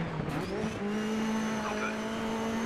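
Mitsubishi rally car in Dirt 3, a steady high engine drone with tire squeal sliding in pitch through a corner, loud and continuous with no talk.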